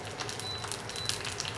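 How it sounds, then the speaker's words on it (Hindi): Mustard seeds crackling in hot oil with curry leaves, asafoetida and urad dal, giving a dense, close sizzle dotted with quick sporadic pops and no voices. "राई हमारे चटकने लग गई है"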